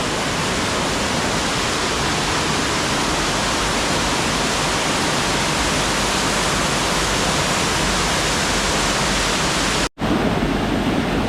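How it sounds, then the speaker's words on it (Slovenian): A waterfall plunges through a narrow gorge in an S-shaped drop, its roar a dense, steady rush of water close by and loud throughout, with a brief dropout near the end and no talk. "Poglejte to divjanje vode."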